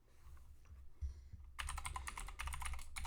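Quick, close keystrokes of a password being typed on a computer keyboard at a Linux Mint 22 desktop, a burst of rapid clicks following a quieter moment with no talking.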